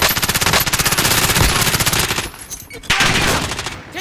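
Machine gun fire in a squad-based shooter video game, a loud, close stream of rapid evenly spaced shots for about two seconds, then a brief pause and a second, rougher burst.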